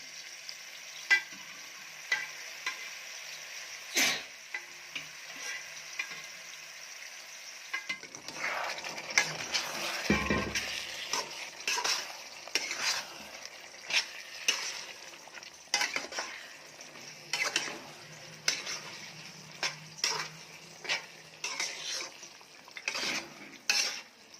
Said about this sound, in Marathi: ग्रेव्हीमध्ये मटन छान मिक्स करून घ्यायचं आहे